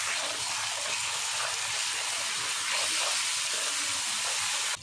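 Spice paste of ground coriander, cumin and salt sizzles steadily in a pan for duck curry, a continuous loud hiss and crackle with no talk, cutting off just before the end.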